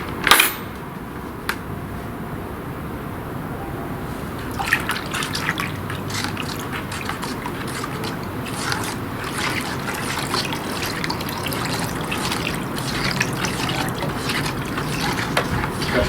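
Strong acid poured into cold water in a workshop, a steady trickling and dribbling of liquid with light splashes and a brief clink at the start.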